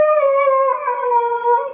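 A dog gives one long, wavering howl that slowly drifts downward in pitch, loud and close, sustained for nearly two seconds with no barking or talk around it.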